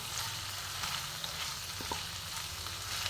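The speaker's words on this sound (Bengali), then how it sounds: "সুন্দর করে ভাজবো আমি" Pui greens and offal cook in a pan over a medium gas flame, a steady close sizzle with a few soft stirring knocks and scrapes.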